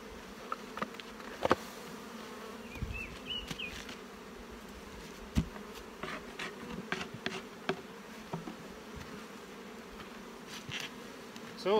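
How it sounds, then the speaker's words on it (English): A steady hum from many honey bees around an open hive during a colony boost with brood frames. The buzz stays close and low, broken by scattered light clicks and bumps from handling, with no talking. "Some bees."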